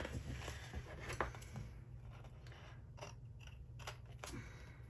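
Paper planner stickers are trimmed with scissors in a series of crisp snips, quiet and close, some soft rustling between cuts.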